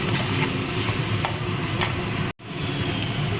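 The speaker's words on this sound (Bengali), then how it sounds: "এবারে আমি চিংড়িগুলো দিয়ে দিলাম" Prawns go into a frying pan of potatoes simmering for a Bengali prawn malai curry, giving a steady close sizzle with stirring and light utensil taps, cut by a brief silent gap.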